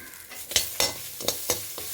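Grated coconut and chillies sauté in a hot pan, with a steady sizzle and five or six sharp scraping stirs of a spoon spaced roughly a quarter second apart, close and fairly quiet.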